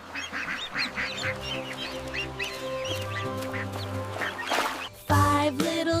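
Ducks quack in a sung nursery rhyme about five little ducks, over a steady musical backing with singing voices throughout.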